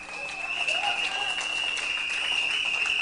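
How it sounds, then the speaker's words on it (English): Audience applause at a community gathering with councillors and aldermen present, a brief even burst of clapping, though a strong steady whistle-like tone runs through it and partly masks the hands. "I want to ask that Senator Roberts be given a round of applause."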